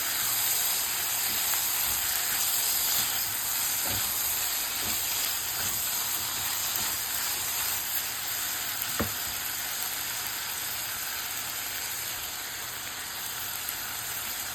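Chopped tomato sautés in a pan for a ridge gourd thuvaiyal, giving a steady, even sizzle and hiss with a few faint stirring clicks throughout.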